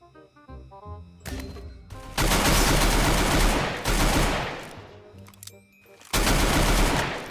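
Rapid automatic gunfire bursts from the Free Fire battle royale game, loud and close, several long sustained volleys separated by short pauses with game tones and a faint voice in between.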